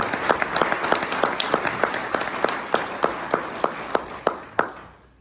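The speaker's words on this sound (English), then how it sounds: "Give yourself a round of applause." Audience applause at a Boys and Girls Club fall gala, a broad wash of clapping with a few sharper individual claps standing out, steady and fairly loud before trailing off at the end.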